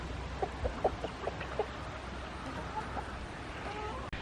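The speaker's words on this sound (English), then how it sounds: "Bunch of happy chickens." Backyard chickens at treat time give a few soft, scattered clucks early on, fairly faint over a low steady background hum.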